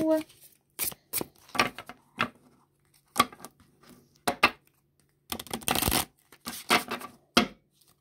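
A deck of cards is shuffled for a card reading, heard as crisp riffling bursts of varying length separated by brief silences, close and fairly loud.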